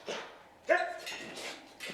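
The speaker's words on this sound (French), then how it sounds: "Notre belle Akita." An Akita female dog at an animal shelter gives a few short, close barks and yips, with soft whimpering between them.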